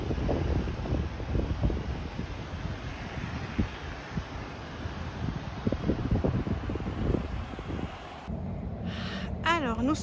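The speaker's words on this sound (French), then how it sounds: "Encore beaucoup de vent avec même de sacrées rafales." Strong gusty wind on a grey, heavy day during a bike ride near Ottawa buffets the microphone in a constant low roar with surging gusts, before a quieter stretch where a tonal wavering sound appears near the end.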